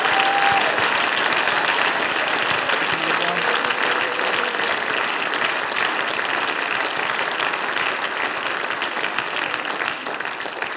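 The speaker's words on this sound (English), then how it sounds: "Clap your hands unto the Lord for just a moment in this house." A church congregation claps hands together in loud, sustained, even applause that fills the room without a break, with faint voices mixed in.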